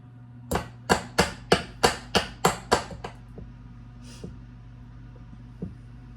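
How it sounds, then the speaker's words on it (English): A utensil is rapped against the side of a mixing bowl of batter about nine times in a quick, even rhythm, close and sharp. A few softer scrapes and taps follow. "all I'm going to do is beat this on the side and scrape all that off"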